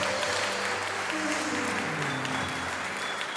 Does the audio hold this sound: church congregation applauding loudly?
yes